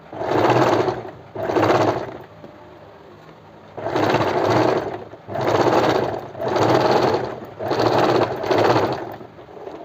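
Close sewing machine stitching the second seam of a kurti or blouse neck, running in six even bursts of about a second each with short pauses between.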